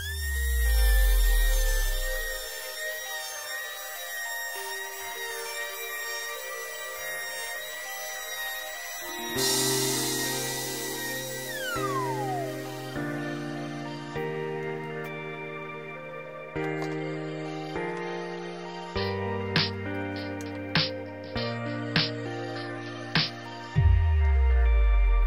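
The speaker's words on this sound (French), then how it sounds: "On va passer à la petite défonceuse sous table pour faire des angles" A small table-mounted router rounds over wood edges in a woodworking shop, whining at a high pitch on its own before a series of cutting passes with short bursts and pauses, ending with a low motor rumble.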